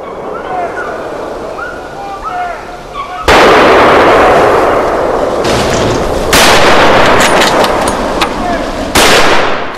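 Hunting rifle shots ring out during a wild boar hunt in the woods: three loud, sharp cracks, each with a long echoing tail, breaking a quiet backdrop of chirping birds.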